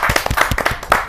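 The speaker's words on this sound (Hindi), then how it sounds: "मैं जहाँ जोरदार तालियों के साथ आमंत्रित करता हूँ" At a kavi sammelan poetry gathering, a small audience claps to welcome a senior lyricist, producing a brief burst of distinct, closely spaced hand claps.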